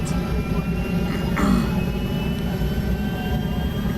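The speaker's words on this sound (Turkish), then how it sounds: "Aa, büyük uçak." A loud, continuous jet engine roar of a large airplane in the video game GTA 5, steady throughout with a slight swell in the middle.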